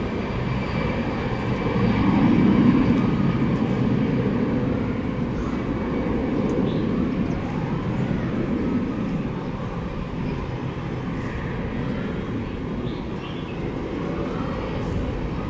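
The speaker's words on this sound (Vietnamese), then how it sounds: "Chiếc máy bay đang được khởi động và sẽ tiến lên đường băng 25 trái trước" An Air Cambodia ATR 72-600 turboprop starts its engines at Tan Son Nhat airport, a broad droning rumble swelling over the first few seconds and then holding steady, heard from a distance with no voices.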